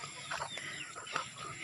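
Soft, scattered clucking from chickens nearby, a few short calls over a quiet outdoor background.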